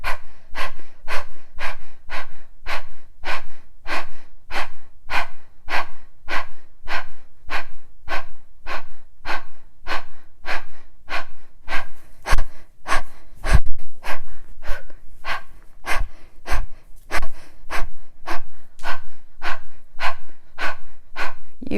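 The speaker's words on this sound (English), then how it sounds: "Draw a full breath in. And full exhale out." Strong rhythmic exhales during a breathing practice repeat about once per second, sharp and forceful, close to the microphone, with quieter inhales between them and no talking.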